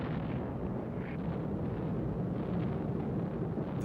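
A WWII B-29 incendiary bombing raid heard as a dense, continuous roar of rumbling explosions and fire, thick with low-end booms, without distinct single blasts, in archival quality.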